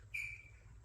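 A single short, thin chirp from a bird, faint and distant over a low background rumble indoors.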